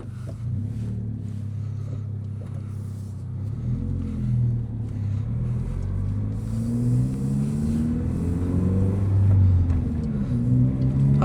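A Subaru BRZ climbs a steep driveway, its engine a low, continuous rumble heard from inside the car that builds gradually in strength toward the end.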